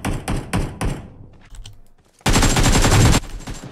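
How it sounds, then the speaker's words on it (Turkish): Loud bursts of automatic gunfire in the PUBG Mobile battle royale game: several quick single shots up front, a quieter stretch, then a sustained close, dense volley about a second long. "Oğlum nereden vuruyor bu adam beni ya?"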